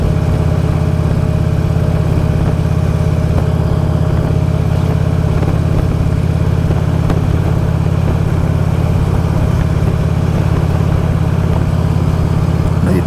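A vehicle engine runs steadily on a morning ride, a loud, constant low rumble with continuous road and wind noise throughout and no talk.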